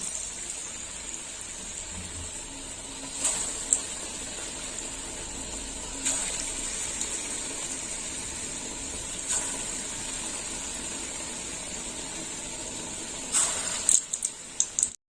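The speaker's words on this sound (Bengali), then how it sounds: "এবার আমি তেলে ভেজে নেব একটা একটা করে ভেজে নেবো" Raw banana balls fry one by one in hot oil with a steady, hissing sizzle throughout, with occasional louder crackles and pops near the end.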